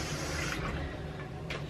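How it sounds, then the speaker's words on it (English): Water running into a small container, probably a baby bottle being filled at a sink, a brief soft continuous splashing rush heard close and quiet. "and then I just fill this up with a little bit of water"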